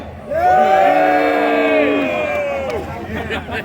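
A crowd at a drag racing event cheers and whoops together in a loud, sustained roar that swells quickly and then gradually fades.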